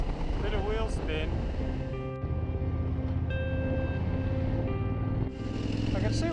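A motorcycle engine revs up through rising pitches to about 4,000 rpm, pauses briefly, then climbs again on a dirt road, loud and near, with a steady whining tone under each pull.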